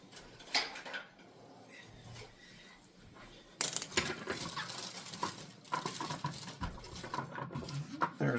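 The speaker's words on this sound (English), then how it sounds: "I had just a tiny bit of baby carrots, so I will cut those up" A knife chops baby carrots on a cutting board, giving a handful of close, irregular thuds and taps against a quiet kitchen background.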